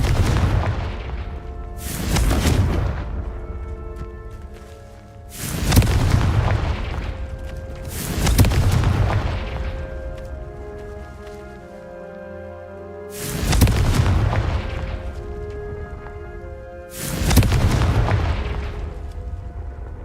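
Confringo spell blasts in Hogwarts Legacy burst as five loud, booming explosions spaced a few seconds apart, each with a sharp onset and a rumbling decay.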